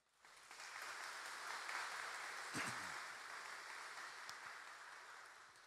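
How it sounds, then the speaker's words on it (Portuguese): A congregation at Mass in the Santuário do Senhor Bom Jesus claps together, a steady wash of applause lasting several seconds at moderate distance, fading slightly toward the end. "uma salva de palmas"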